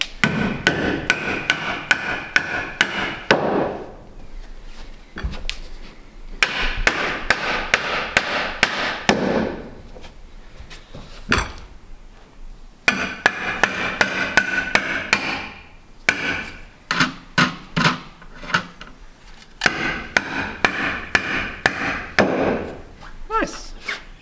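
Hammer blows on a wooden boat cockpit under construction, delivered in repeated bursts of sharp, close knocks with short pauses between them, while people talk quietly in the background.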